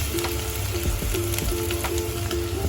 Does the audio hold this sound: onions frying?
yes